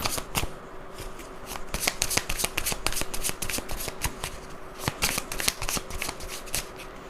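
Tarot cards are shuffled and drawn by hand in a quiet room, a quick run of crisp riffling flutters and soft slaps, close and fairly soft, with no talk.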